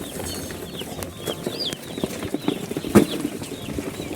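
Broiler chicks in Nepal chirp in a rapid, overlapping chorus of high peeps, close and steady, with a few louder calls and faint handling noise mixed in.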